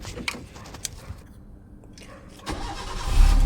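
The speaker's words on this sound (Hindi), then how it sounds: "कर दी गाड़ी स्टार्ट" A car engine cranks and catches after a few quiet knocks and rustles, rising into a low, steady idle near the end, close by with no talking.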